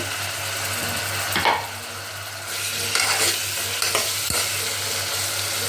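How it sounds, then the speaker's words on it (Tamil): Tomatoes sauté in a pan for beetroot kulambu, with a constant close sizzle and a few scraping, knocking strokes of a spatula stirring them. "தக்காளி கொஞ்சம் வதங்கட்டும்"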